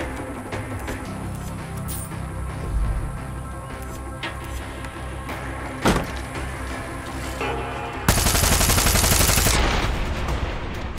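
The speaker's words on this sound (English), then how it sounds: "Fucking sniper rifle now." Sniper rifle fire rings out in Far Cry 6, a few sharp cracking shots spaced apart over game ambience, then a loud burst of broadband noise near the end.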